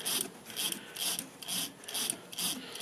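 A small tap backs out of a drilled aluminum hole on a lathe, giving a quiet, rhythmic scraping with a short rasping stroke about every half second.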